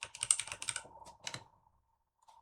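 Quick bursts of keystrokes on a computer keyboard as a command is typed into Cisco IOS in Packet Tracer, close and crisp clicking for about a second and a half, then near silence apart from a faint key tap.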